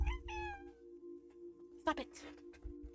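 A cat in the game Minecraft gives a clear, drawn-out meow up close. A brief voice and a few soft game noises follow after a quiet pause.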